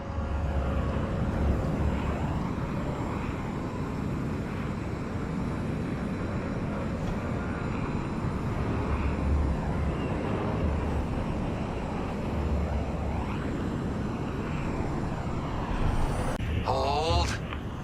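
Starfighter engines roaring at full power in Star Wars: Squadrons, a steady, dense, loud rumble held throughout, with a rising whine and a few sharp sweeping sounds near the end.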